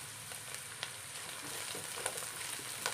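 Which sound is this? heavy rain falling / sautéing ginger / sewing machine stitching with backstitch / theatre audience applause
sautéing ginger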